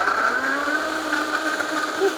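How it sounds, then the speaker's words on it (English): A kitchen blender runs at a steady whirring pitch, blending avocado salsa verde, with a continuous close motor drone and a slight churning texture and no pauses. "So I'm gonna go ahead and blend this up."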